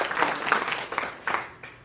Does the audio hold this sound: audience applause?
yes